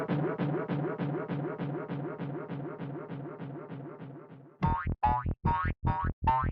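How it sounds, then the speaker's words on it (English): Loud, bass-heavy doink sound effect repeated in a steady rapid train of boings that gradually fades, then cuts into a series of sharper, choppier, louder doinks. "Just do a really loud doink noise."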